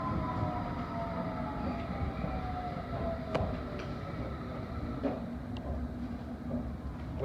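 A London Underground Metropolitan line train is running, with a continuous rumbling roar of wheels on track, whining motor tones gliding in pitch and occasional sharp rail clicks, heard from inside the carriage.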